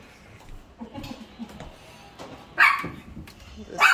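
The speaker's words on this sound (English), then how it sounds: "Dog not included with the unit." A dog barks a couple of sharp times close by inside an apartment, with quieter sounds and light movement between the barks.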